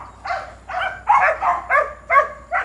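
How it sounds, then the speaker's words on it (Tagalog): Dogs bark repeatedly in a quick series of about seven sharp barks, moderately close, with no other sounds around, early in the morning. "Nagtatahulan yung mga aso."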